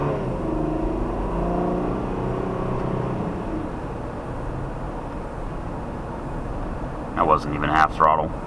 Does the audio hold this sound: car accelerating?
yes